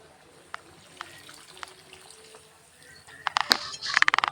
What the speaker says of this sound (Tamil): மீதி இருக்க புளி தண்ணியும் இதில் ஆட் பண்ணி